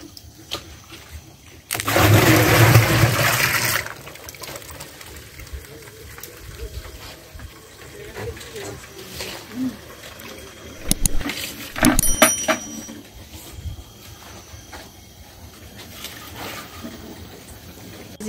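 Water gushes loudly into a container for about two seconds while making homemade grape molasses (doushab), followed by quieter handling clatter and occasional knocks and splashes.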